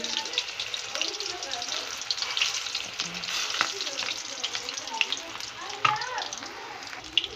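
Chicken koftas fry in oil, a busy crackling bubble with scattered pops and light clinks of a utensil, close and moderately quiet, with a voice speaking now and then.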